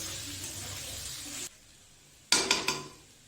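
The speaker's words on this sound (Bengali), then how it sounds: "গাজর ক্যাপসিকাম বিনস দিয়ে পেঁয়াজ দিয়ে এগুলি ভাজা ভাজা ভাজা করছি" Carrots, capsicum, beans and onion frying for chicken egg chow mein, first as a steady loud sizzle that cuts off abruptly, then after a pause a few quick clattering stirs of a spatula against the pan.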